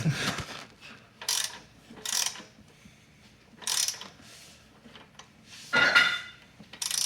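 Nissan 300ZX engine turned over by hand with a ratchet during a timing belt service, giving repeated bursts of clicking ratchet strokes separated by pauses, close and moderately loud with no talk.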